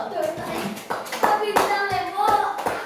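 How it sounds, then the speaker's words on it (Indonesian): Children clap in a quick, rhythmic patter while young voices chant or talk over it, close and lively. "tepuk tangan dulu buat Nurul."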